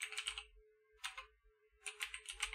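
Bursts of mechanical keyboard typing come in three short runs separated by pauses, faint and slightly distant behind a low hum, as if picked up through a voice chat microphone.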